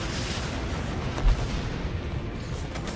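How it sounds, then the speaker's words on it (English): A missile strike in a Vietnam War combat video game booms out as one low, heavy blast over a steady rumble of distant battle noise. "Let's missile this thing."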